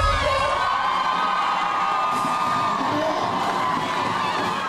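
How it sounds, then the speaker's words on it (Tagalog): Supporters of Team Aksyon at Malasakit and incumbent Caloocan mayor Along Malapitan cheer and shout at a rally in Plaza Rizal, Caloocan, a loud, sustained crowd roar with whoops and yells throughout. "Napuno ng hiyawan ng mga taga-suporta ng Team Aksyon at Malasakit ni incumbent City Mayor Along Malapitan ang Plaza Rizal sa Caloocan kanina."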